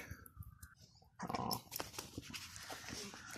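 A farm dog sounds faintly nearby with low growling and breathing, quiet and intermittent, with no talking.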